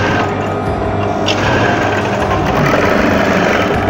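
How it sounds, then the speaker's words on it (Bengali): A sewing machine runs steadily while double stitching the side seam of an apron, a continuous close mechanical whir with a fast needle rhythm and no pauses. "ডাবল সেলাই করে দেবো আমরা সেলাইটা ডাবল করে দিলাম"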